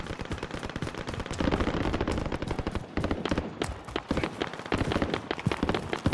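Rapid automatic gunfire from a Warzone battle royale match crackles in fast bursts, loud and near, with brief gaps between volleys and no talk.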